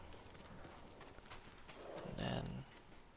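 A horse's hooves clip-clop in the video game Ghost of Tsushima, faint steady steps under low background noise, swelling briefly louder near the end.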